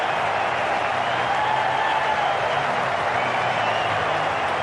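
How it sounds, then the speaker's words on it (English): A large cricket crowd at the WACA roars and applauds in a dense, steady wash of noise after a hat-trick of sixes in an Australia versus Zimbabwe match. "And the crowd are going wild."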